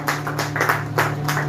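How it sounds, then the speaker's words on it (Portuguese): A church congregation claps hands together during a Portuguese-language worship service: several uneven bursts of clapping over a steady low hum, moderately loud, no one speaking. "Aplauda glorificando o nome dele"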